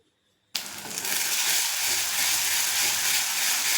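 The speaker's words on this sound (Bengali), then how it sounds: "পেঁয়াজ কুচি দিয়ে হালকা ভেজে পেঁয়াজ বাটা, আদা বাটা দিয়ে ভালো করে কষিয়ে নিলাম" Onion, onion paste and ginger paste hit a hot pan for a fish roe curry gravy, bursting into a loud, steady sizzle after a brief quiet start and frying on continuously up close.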